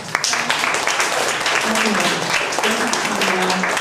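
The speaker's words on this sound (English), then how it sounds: "let's give all of them a round of applause" Audience at a library dedication gives a round of applause, a continuous roomful of clapping with voices talking and cheering over it.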